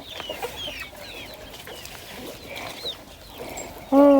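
Free-ranging chickens grazing outdoors cluck and murmur steadily at moderate distance, with one loud, close squawk bursting out right at the end.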